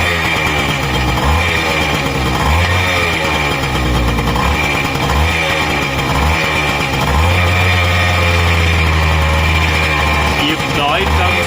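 A two-stroke motorbike engine runs loudly and steadily close by, its low droning note climbing in pitch and dropping again as the throttle is opened during an oil pump check at a home service.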